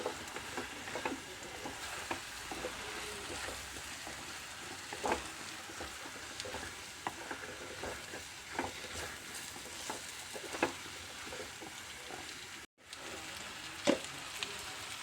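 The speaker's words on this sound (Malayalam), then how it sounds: "നമുക്ക് ഇതിൻ്റെ കൂടെ ഈ ഉരുളക്കിഴങ്ങ് ഇട്ടിട്ടൊന്ന് നന്നായി ഇളക്കി ഒന്ന് എടുക്കാം" Potatoes being stirred into a masala curry in a pan, soft scraping and gentle sizzling with irregular spoon knocks, fairly quiet and close, briefly cutting out near the end.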